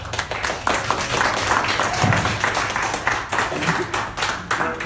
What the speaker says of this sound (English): So how about a round of applause for Dave?